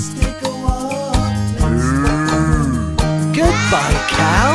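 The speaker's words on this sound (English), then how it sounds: "Goodbye, cow." A cow moos repeatedly over a backing of steady rhythmic music, the drawn-out bovine calls rising and falling loudly in the foreground of a children's farm-animal nursery song.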